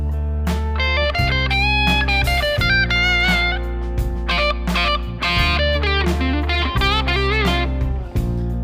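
Electric guitar played through a Sonicake Matribox II multi-effects unit with a distorted amp tone, a loud, steady run of sustained chords and picked notes with no talking.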